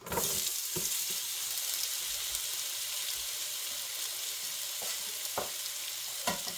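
Onion sizzles in olive oil in a hot pan, a steady bright hiss throughout, with a few sharp utensil clicks and scrapes as it is moved around.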